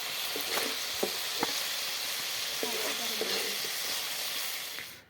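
Mustard greens (lai leaves) frying in a hot pan, giving a steady bright sizzle with occasional soft knocks and stirring scrapes of a utensil, a brief faint voice in the background, fading out at the end.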